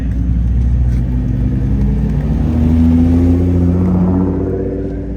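A Nissan GTR supercar engine rumbles deep and steady at an exotic car meet, climbing into a brief rev near the middle before settling back, close and loud.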